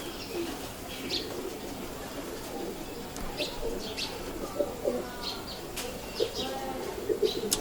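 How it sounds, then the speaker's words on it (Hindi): A female Rampuri pigeon coos softly and repeatedly at close range, with faint chirps and a brief flutter of wings against a steady background murmur. "जो आपको रामपुरी कबूतर पहले दिखाया था उसकी मादा दिखाने"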